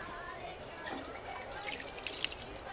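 At a temple, poured water runs and drips in a soft, steady stream nearby, with faint voices in the background.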